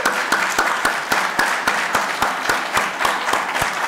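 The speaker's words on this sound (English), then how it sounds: "give you a nice round of applause for all the hard work" Audience applause at a Caltrans District 4 Black History Month celebration honoring the Black History Committee, a steady crowd of clapping with some sharper individual claps standing out, moderately loud and without talk.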